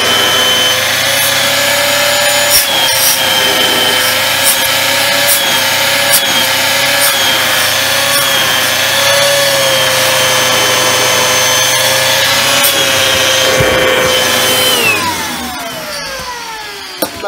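An Electrolux Vitesse 1600W vacuum cleaner runs through a suction test after a refurbishment, giving a loud, steady motor whine with airflow rush that holds for about fifteen seconds, then winds down near the end.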